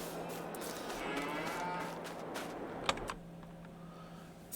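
Cows mooing inside a cattle barn in Farming Simulator 22, a dense overlapping herd of lowing calls rising and falling over a low steady hum, with a brief clatter near the end as the noise thins.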